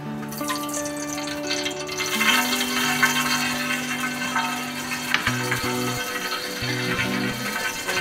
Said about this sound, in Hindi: अब इसमें मैं ऑयल डाल दूंगी